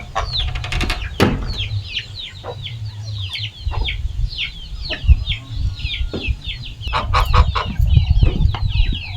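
Chickens clucking and calling at morning feeding time in a farmyard, a busy flock of overlapping clucks and squawks, with a brief rooster-like call and some mechanical clatter in the background.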